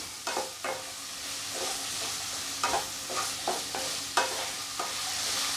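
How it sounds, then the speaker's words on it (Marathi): Potato pieces stir-roasted in a pan for sabudana khichdi, with a steady close sizzle broken by repeated scraping strokes of a spatula at an irregular rhythm. "हे बटाटा टाकून झालं होती ते थोडंसं असं भाजून घ्यायचं"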